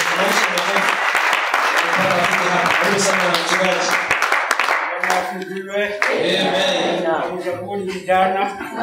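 A crowd applauds with loud, sustained clapping while a person speaks over it, the clapping thinning out toward the end.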